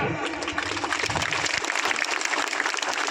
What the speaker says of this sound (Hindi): तालियों से आशीर्वाद देते हैं